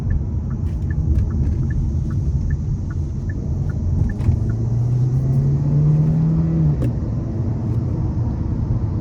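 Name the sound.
hybrid car accelerating in sport mode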